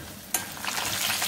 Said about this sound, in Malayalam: അപ്പൊ കടുക് പൊട്ടുന്നുണ്ട്